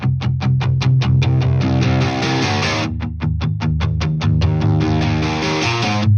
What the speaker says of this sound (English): This is where the first rock guitar comes in